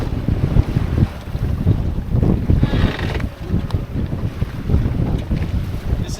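Strong wind of about 20 knots gusts across the microphone aboard a sailboat on a remote island sailing expedition, with rough, continuous buffeting and rushing water and hull noise throughout, loud and close, with no talk.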